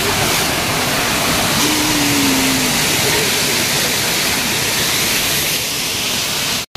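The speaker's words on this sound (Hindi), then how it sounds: "यहाँ पे देखिए कितना अच्छा वाटरफॉल हो रहा है" Steady broadband rush of a small roadside waterfall fed by a tap-controlled flow on a hillside street, loud and continuous throughout with no voices.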